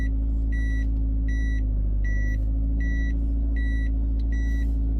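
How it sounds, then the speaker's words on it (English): A Porsche Cayenne backing up sounds a steady series of high electronic reversing beeps, about six evenly spaced pulses over a low, constant engine rumble, heard close. "JDM backup noise"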